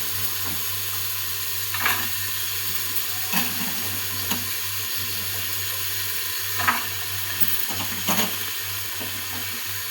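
Colourful mixed vegetables sizzle steadily in a hot pan for vegetable rice, a constant close frying hiss with occasional soft clinks and stirring taps, no talk.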